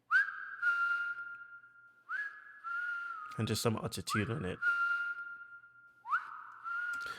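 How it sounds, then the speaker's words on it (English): A person whistles a melody close into a microphone for a lofi-style music track, with clear sustained and gliding notes in short repeated phrases and a brief burst of other sound in the middle. A voice speaks briefly. "I add this whistle as well, which I just whistled into my mic."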